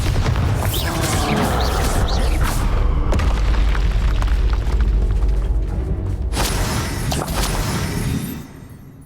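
Bombarda spell explosion in Hogwarts Legacy, a loud booming blast with rumbling debris and bursts layered over game combat effects, fading out near the end.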